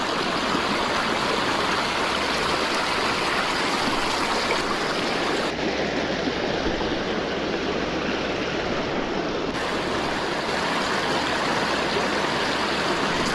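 The Nitra river runs over shallows in a steady, broadband rushing flow, close and constant throughout without pauses or voices.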